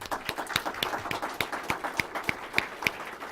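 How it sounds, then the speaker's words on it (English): Applause for a panel at a North American energy forum, thin and scattered, with a few distinct close hand claps standing out in an uneven rhythm. "give the panel a round of applause."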